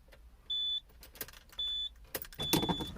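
On a 1993 Subaru SVX LS-L, a power window moves on its own as the car starts, amid three short electronic chime beeps, clicks and a low motor whir heard up close in a quiet cabin.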